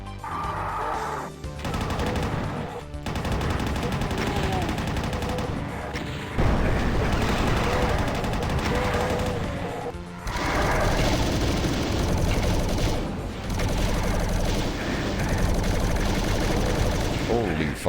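A chaingunner enemy in Doom fires its chaingun amid dense, loud rapid gunfire and blasts that run nearly continuously, with brief gaps, while someone talks over the action.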